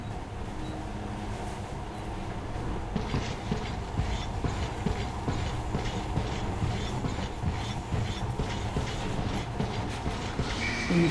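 Monorail train in Metro Last Light Redux running steadily, a continuous rumbling roll with faint rhythmic clatter throughout, close and even in level.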